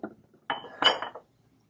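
Glassware clinks softly as a bottle is gently mixed during a Winkler dissolved oxygen titration, giving three short close clinking bursts with no talk.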